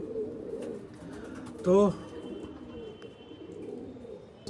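A pigeon gives one short, clear coo near the middle, over a low murmur of background noise, with a brief spoken word nearby.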